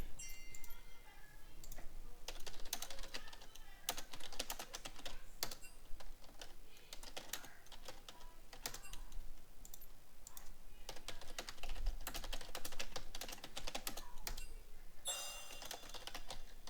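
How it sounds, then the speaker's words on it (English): Rapid, irregular clacking of someone typing on a computer keyboard runs continuously at close range, with bursts of faster keystrokes and no talking. "I'm typing to people here"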